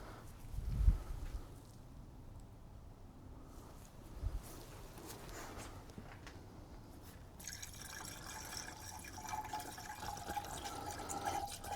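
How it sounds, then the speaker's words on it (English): Coolant is poured into the cooling system of a Jeep Cherokee during a water pump repair, a faint, steady liquid trickle and gurgle with a brief thump early on, the flow brightening near the end. "now we'll start filling it with some coolant"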